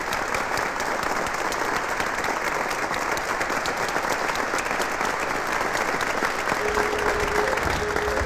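Dense applause from a large audience fills the whole stretch, loud and steady with a crowd murmur underneath, at a school talent event.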